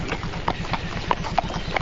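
A horse's hooves clip-clop in a steady walking rhythm during a duathlon broadcast in Zofingen. The clear, regular hoof strikes sit over a continuous background rumble.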